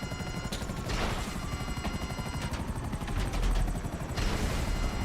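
Helicopters in the video game GTA Online churn with a loud continuous rotor chop, joined by bursts of gunfire and explosions in a chaotic battle mix, no talking.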